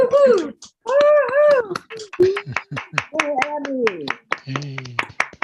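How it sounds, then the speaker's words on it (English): An online audience claps in scattered, uneven bursts after a reading, with several voices talking and exclaiming over and between the claps. "Let's all unmute and clap and then talk."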